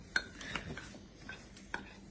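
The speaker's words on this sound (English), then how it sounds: "Stirring it." Spoon stirring milk into microwave mug-cake batter, giving a few faint scattered clinks and scrapes against the container at close range, with no talking.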